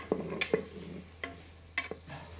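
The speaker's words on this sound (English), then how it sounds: "We'll fry until we can smell the beautiful fragrance from the ingredients." Shallots with a cinnamon stick and star anise fry in a pot, giving a faint, quiet sizzle broken by a few sharp scrapes and clicks of stirring.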